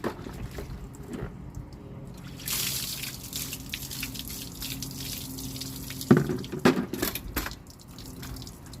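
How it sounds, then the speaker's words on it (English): Running water splashes steadily while a cleaned household item is rinsed at home, with a few louder splashes near the end and no talking. "I'm gonna rinse it."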